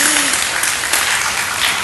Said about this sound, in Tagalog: Gusto ko lang pumalakpak.